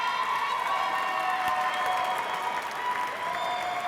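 An audience at a tribute dinner applauds steadily, with sustained clapping and some cheering filling the room for several seconds at a moderate distance.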